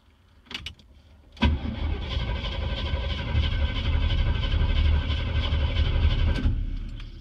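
A 1953 Studebaker engine cranks and catches after a couple of quick clicks, then settles into a rough, loud idle with a pulsing beat before cutting off near the end.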